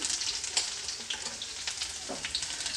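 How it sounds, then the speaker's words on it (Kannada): Whole spices with chopped ginger and garlic frying in hot oil in a pan, a bright continuous sizzle with crackles and a few sharper pops, close up. "ಒಂದೆರಡು ಸೆಕೆಂಡು ಇದನ್ನು ಮಸಾಲೆನ ಫ್ರೈ ಮಾಡ್ಕೊಂಡಾದಮೇಲೆ"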